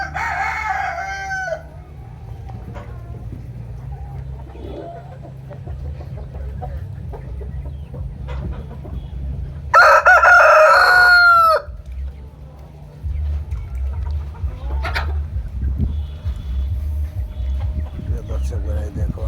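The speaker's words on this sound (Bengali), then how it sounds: "মুরগির ডাকগুলো খুব ভালো লাগতেছে।" Desi and layer hens on a netted poultry farm cluck in the background, and a rooster lets out one loud, clear crow midway, with steady low ambient hum throughout.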